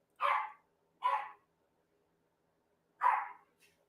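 A puppy indoors gives three short, sharp barks about a second apart, then a faint fourth yip. The barks are close and clear against otherwise silent surroundings.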